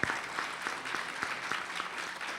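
A warm round of applause from an audience at a formal electoral tribunal ceremony welcoming the presiding magistrate, steady and fairly distant throughout.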